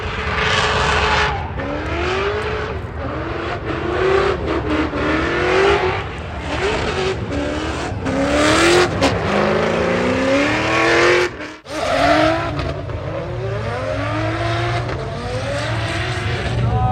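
Race cars roar across the Moreeb Dunes at the Liwa festival, with engines revving hard through repeated rising and falling gear sweeps and tire squeal as they drift, loud and close throughout.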